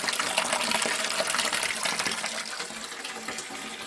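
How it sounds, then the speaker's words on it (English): Dirty water from an agate-cutting saw pours down into a bucket, a continuous splashing gush close by that stays strong and gradually eases slightly toward the end. "the water's going to pour down"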